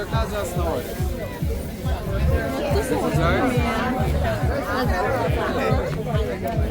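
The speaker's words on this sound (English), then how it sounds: "So this big crowd." A big crowd chattering at an outdoor Diwali celebration at Kitty Roundabout in Georgetown, Guyana, a loud, dense babble of overlapping nearby voices with steady low thumping underneath, unbroken throughout.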